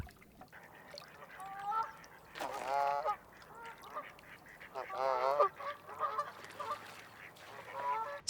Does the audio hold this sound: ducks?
yes